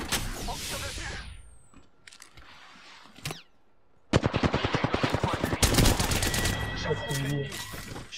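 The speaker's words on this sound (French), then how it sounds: "On me tire dessus." Rapid automatic gunfire from a weapon in the battle royale game Apex Legends: a quieter opening stretch, then loud, close bursts of evenly spaced shots that run for several seconds.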